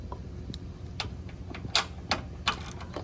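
A headlight mounting bolt comes out of a 2022 Subaru WRX: a close series of sharp, irregular metallic clicks and ticks from a hand tool over a low background hum, with no talking.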